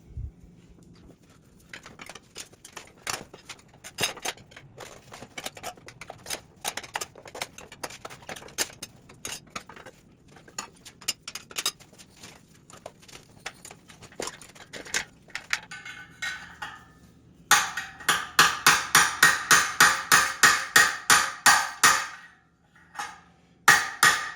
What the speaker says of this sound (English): So we hit it with the air chisel and got lucky.